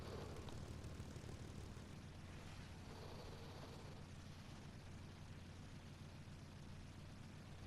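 A bomber aircraft's propeller engines in the War Thunder video game, a steady droning roar held at an even level throughout with a dull thump near the start, no talking.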